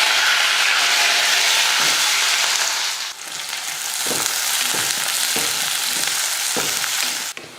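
Small shallots, garlic cloves and curry leaves fry with fenugreek seeds in hot oil, giving a loud, close, continuous sizzle broken by several short scraping stirs of a spoon in the pan.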